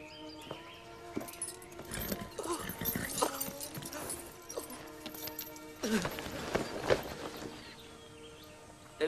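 Hooves clip-clopping at a steady walk, with faint birds and other background noise behind, and a few brief voices.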